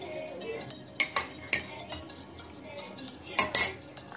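A metal spoon stirs chicken marinade of yogurt, turmeric, Kashmiri chili, cumin, coriander and ginger-garlic paste in a bowl, giving a few sharp clinks and scrapes against the bowl over quiet, soft mixing.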